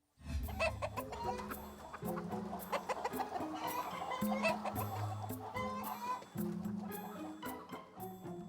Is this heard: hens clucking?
yes